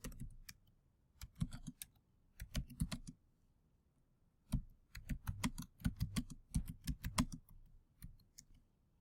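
Someone types text into an Office 2016 program on a computer keyboard, producing close, crisp key clicks in short bursts separated by quiet pauses, with no speech.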